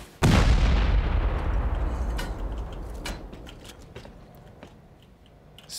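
Rocket and C4 charges blast against base walls in a survival video game: one sudden, loud boom that rolls into a long decaying rumble, with a few smaller thuds trailing off.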